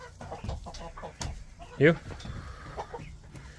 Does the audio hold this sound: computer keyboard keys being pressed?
no